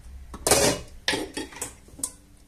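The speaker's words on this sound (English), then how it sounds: "deep frying pan here." A deep frying pan being handled on a kitchen stove before cooking stewed chicken legs: a few close metallic clanks and knocks with short scraping, in irregular bursts over about two seconds.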